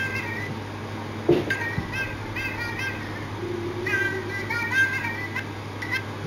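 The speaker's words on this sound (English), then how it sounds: "That was just a cat ringtone." A cat meow ringtone plays in short, repeated mewing calls over a steady background hum, fairly close and moderate in level.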